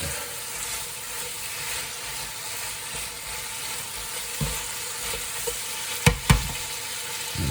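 Spring onions and peppers stir-frying in a hot pan for a Thai noodle dish, a steady close sizzle with a few sharp utensil knocks toward the end, no voices.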